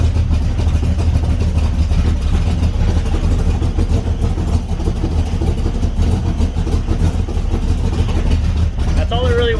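Corvette Z06 V8 fitted with long tube headers and exhaust, a loud deep rumbling idle with a steady low throb throughout, and a voice talking over it.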